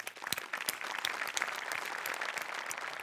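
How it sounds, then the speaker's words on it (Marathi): An audience applauds at a Marathi comedy stage show, with dense, continuous clapping that swells quickly and holds at a steady level throughout. "नेहमीप्रमाणे सगळ्यात आधी मोठ्यांसाठी टाळ्या वाजवूया"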